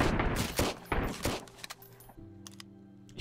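Three sharp pistol shots crack in quick succession in the survival video game Sunkenland, followed by a steady low hum and a few faint clicks.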